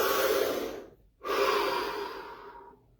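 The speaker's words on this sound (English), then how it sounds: "Take a deep breath." A deep breath: one long, close inhale, a short pause, then a slow exhale that fades out, with no other sound.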